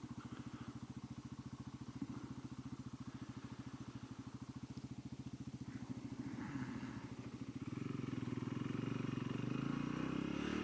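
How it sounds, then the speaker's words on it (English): A Genuine G400C motorcycle rides over bumpy, rough roads, its single-cylinder engine thumping in a fast, even pulse that swells louder and rougher near the end as the throttle opens, with no talking. "these roads are, they're bumpy, they're rough, and this bike just takes it with dignity"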